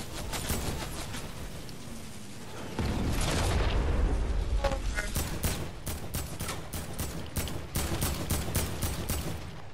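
Desert Eagle pistol fire in the Fortnite video game, a run of sharp, loud shots in quick rhythm over a dense game soundscape with louder action in the second half.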